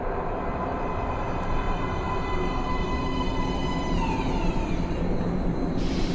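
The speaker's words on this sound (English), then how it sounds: "Please step away from the edge of the platform. Train coming in." A metro train pulls into an underground platform in the video game Metro Last Light, a steady rumbling roll with a rising metallic whine that holds loud and continuous throughout.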